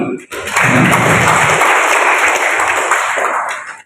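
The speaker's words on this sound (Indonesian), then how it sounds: "Tepuk tangan dulu." Applause from an audience at a regional statistics forum led by a district head, a dense wash of clapping lasting several seconds, with a low voice murmuring underneath at the start.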